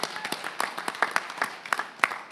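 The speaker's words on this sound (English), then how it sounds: "Y'all give them a round of applause." A small audience at a labor summit panel claps for Charlotte workers who went on strike, with sparse, distinct handclaps spaced irregularly and fairly close, no voices over them.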